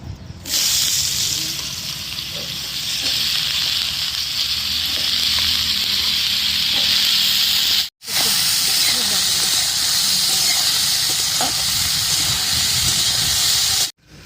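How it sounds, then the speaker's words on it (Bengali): Cauliflower tossed into a hot pan with a little salt and turmeric sets off a loud, continuous sizzling hiss, close up, broken once by a brief cut before resuming just as strongly. "এবার আমি ফুলকপিটা দিয়ে দেবো"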